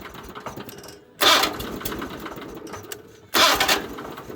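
A small Onan engine cranks and catches twice in short, loud surges over a steady low running rumble, heard up close.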